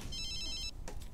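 A phone rings in The Sims 3 video game, a short bright electronic trill of rapid pulses lasting under a second, followed by a couple of soft clicks from the game.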